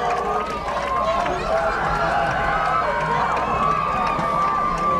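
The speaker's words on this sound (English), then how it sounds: "We got to look at the crowd going nuts." A large football crowd at a 1998 high school game against DeWitt roars and cheers wildly without a break. Announcer speech runs over the dense, steady stadium noise.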